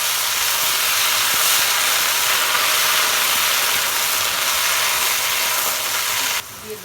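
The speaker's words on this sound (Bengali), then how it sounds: "ভাজা হয়ে গেছে এগুলো, এবার আমি সবজিগুলো ঢেলে দেব" Flat beans poured into hot oil with onion, garlic and green chilli, giving a loud, steady broadband sizzle and hiss that fills the clip before dropping off sharply near the end.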